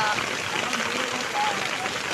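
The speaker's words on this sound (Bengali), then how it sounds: "এবার বাড়ি ফিরছি কিন্তু দেখেছে আরও জোরে এসে বৃষ্টিটা" Heavy rain pours down outdoors as a dense, steady hiss that fills the whole moment without a break, loud and close all around.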